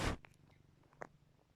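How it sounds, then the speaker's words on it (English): A pet cat purring close by, a soft, steady low rumble that continues quietly after a brief loud bump at the start. "so if you hear her purring"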